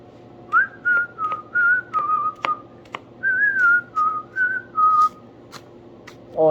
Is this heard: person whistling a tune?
yes